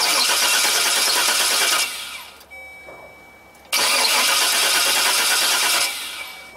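A Chevrolet Express van's starter cranks the engine without it catching, a loud, close, even whirring churn in two long bursts separated by a short quiet pause with a faint electrical whine.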